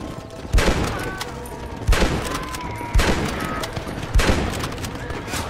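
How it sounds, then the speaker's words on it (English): Four heavy gunshots boom at roughly one-second intervals, each with a rattling burst and a lingering tail, loud and close, with a background voice between them. "Stop shooting at me!"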